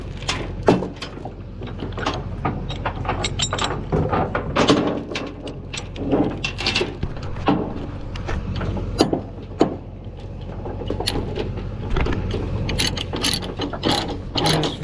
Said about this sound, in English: It's time to tie the back up with a ratchet.